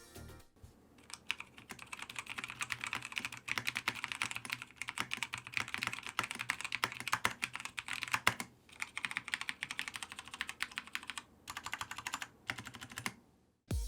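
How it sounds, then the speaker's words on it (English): Rapid typing on an Alienware AW768 mechanical gaming keyboard, a dense, close clatter of key clicks with brief pauses, heard alone without talk. "And just so you guys can hear how they sound,"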